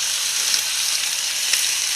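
Short ribs searing in a hot pan, a loud, dense, steady hiss of sizzling fat with faint pops, continuous and close with no talk.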